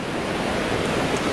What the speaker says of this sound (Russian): Мы у моря.